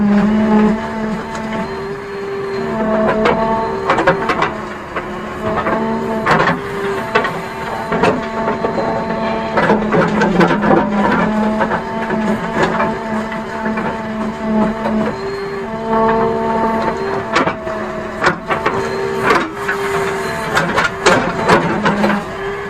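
A JCB 3DX Eco Xpert backhoe digging and loading soil while a drip irrigation pipe line is pulled from a field: a loud, steady diesel drone throughout, broken by repeated clanks and scraping knocks from the bucket.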